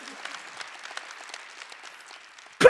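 Congregation clapping together during a Korean church Wednesday worship service, a steady mid-level patter of many hands lasting a few seconds before a sudden loud burst at the very end.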